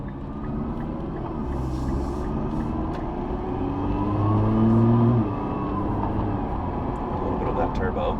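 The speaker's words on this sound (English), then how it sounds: "There is a Boost Logic X-Pipe down there. It gives it a little bit more of a throaty feel," A 2020 Nissan GT-R with a Boost Logic X-pipe exhaust runs under steady talk, its engine a continuous low rumble that swells briefly as it revs, then settles back to a constant drone.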